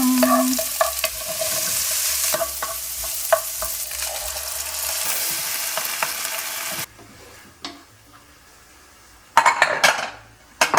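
Scallion oil frying in a pan while being stirred, loud sizzling with utensil scrapes and clinks against the pan, then a quieter stretch before another burst of sizzle and clatter near the end.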